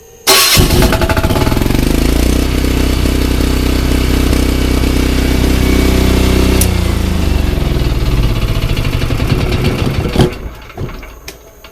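An emergency generator engine cranks and fires, settling into a loud, close, steady running drone for about ten seconds before cutting off, with a few clunks as it winds down.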